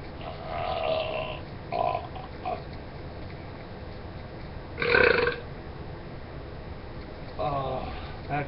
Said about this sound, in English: sometimes when you got a burp